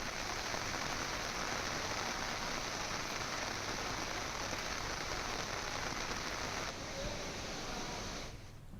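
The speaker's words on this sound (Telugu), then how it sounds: "ఎడతెరిపి లేకుండా వర్షం కురిసింది" Dense, steady downpour of heavy rain in Bhadrachalam hissing across all pitches, loud and continuous, easing slightly near the end.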